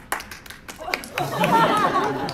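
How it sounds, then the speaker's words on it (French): A few isolated claps, then a swelling burst of audience applause mixed with crowd chatter at a live stage show. "pour l'arbre singe savant, applaudissez maintenant"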